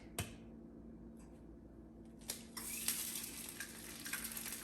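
An egg cracked into an oiled pan: a couple of sharp taps, then a quiet, continuous hiss of frying in a calm kitchen, without speech.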